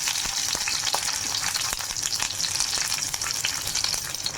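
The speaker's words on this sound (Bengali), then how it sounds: "তেলটা গরম হয়ে গেছে, এবার আমি রসুনগুলো দিয়ে দিলাম।" Garlic cloves hit hot oil in a kadai on a gas flame, giving a steady, loud, close sizzle with fine crackles and a few sharp pops throughout, with no voices.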